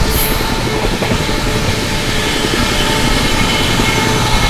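Aboard the Howrah Rajdhani Express as it skips Jivnathpur station, a constant loud roar of the moving train fills the whole stretch without any break or talk.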